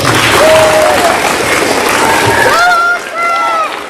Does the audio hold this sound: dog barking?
no